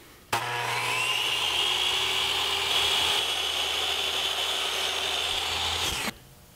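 A power saw cuts a wooden board to length for a chalkboard frame, a steady loud whine that starts abruptly, holds for about six seconds close up, then cuts off.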